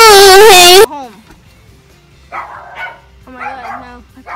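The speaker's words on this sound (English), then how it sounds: "The dogs are going crazy." Dogs bark and yip excitedly at a homecoming, a loud voice at the start giving way to bursts of fainter barking at a distance.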